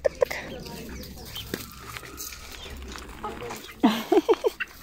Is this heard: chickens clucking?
yes